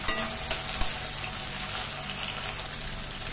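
Tomatoes with their seeds removed fry in a pan with ginger and garlic. The result is a soft, steady sizzle with a few faint clicks and pops, heard alone without talk.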